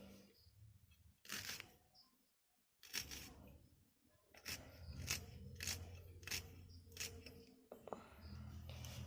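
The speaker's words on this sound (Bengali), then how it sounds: "এইবার আমি পেঁয়াজগুলো কেটে দিচ্ছি।" Onions being sliced with a knife for Bengali shrimp fritters, a string of sharp crisp chopping cuts in uneven bursts with brief pauses, close and fairly quiet, with faint soft voice sounds between them.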